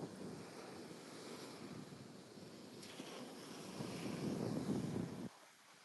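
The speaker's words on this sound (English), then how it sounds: "It seems like it's windier going this way." Wind buffets the microphone on a beach with the tide coming in, a steady low roar with faint surf beneath it that swells louder near the end before dropping away abruptly.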